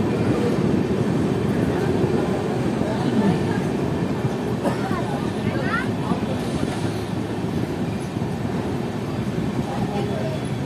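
The 11447 Shaktipunj Express runs at night with general coaches nearly full, giving a steady, loud rumble and rattle of the rolling train throughout, with faint voices in the background.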